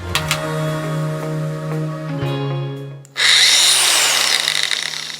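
After a few clicks and a hum, a battery-powered Metabo angle grinder spins up to a loud, high-pitched whine and keeps running close by.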